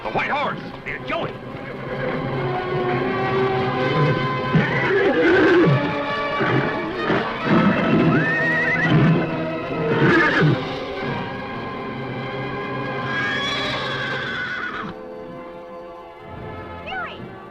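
Horses whinny and neigh loudly, including a white stallion in a fight, amid excited shouting voices, with a chaotic, busy background of movement throughout.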